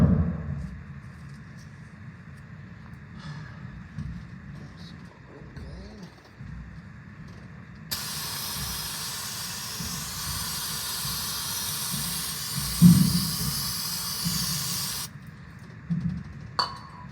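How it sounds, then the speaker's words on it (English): Brake cleaner hisses from an aerosol can in one continuous blast lasting about seven seconds, sprayed onto the front axle of a Prevost RV bus conversion over a faint low rumble. "I'm going to spray it with some brake clean"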